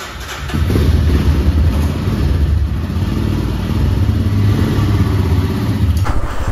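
A motorcycle rides along a road in Sikkim, its engine giving a steady mid-pitched drone with rumbling wind noise, loud and close throughout, with no talk.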